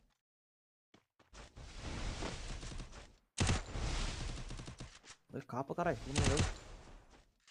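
Gunfire in a mobile shooter game during a one-on-one match, bursts of rapid shots in several loud clusters with a voice reacting over them.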